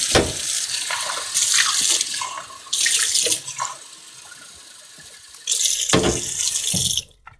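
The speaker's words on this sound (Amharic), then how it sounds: "ሻወር እንገባለን ጋይስ።" Water gushes from a shower in loud bursts that start and stop, with quieter dripping and trickling in the pauses between.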